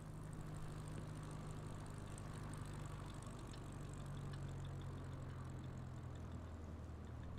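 An aircraft touches down on a runway in a flight simulator game, its engine droning at a steady, low, faint level without pause throughout.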